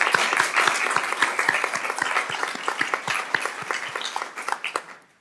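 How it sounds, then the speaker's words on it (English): Audience applause for partners at a healthy homes award ceremony, a modest group whose individual claps stay distinct and fairly regular, easing off and thinning toward the end. "So just a quick round of applause for all of our partners."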